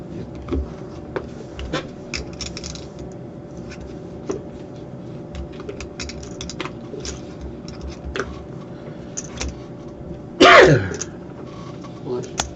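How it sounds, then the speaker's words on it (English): One sharp, loud sneeze bursts out near the end of a quiet hand at a poker cash game table, following light clicks and shuffling of chips and cards. "At least I didn't sneeze all over the cards and everything."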